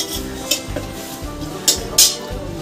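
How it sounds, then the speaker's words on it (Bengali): Three torn bay leaves sizzle in hot white oil in a wok, giving a steady low crackle with a few sharper spits and clinks standing out from it. "তেল গরম হয়ে গেছে, দিয়ে দিলাম 3টে তেজপাতা আমি ছিঁড়ে নিয়েছি"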